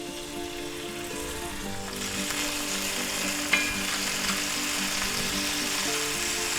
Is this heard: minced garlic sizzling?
yes